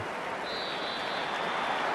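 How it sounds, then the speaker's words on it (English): A steady wash of crowd applause and cheering from a home football crowd in the Madden 26 video game, an even distant roar throughout with no talk. "And the home crowd applauding."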